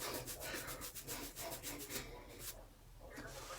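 Hands rub oil into hair in a soft, continuous brushing and rustling that comes up close and quiet, with a slight rhythmic swish and no voice.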